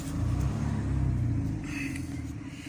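An Iveco 75E16 truck diesel engine runs at a steady, deep idle on a customer's site after a new clutch was fitted, a close, continuous low rumble with a slight rise in revs.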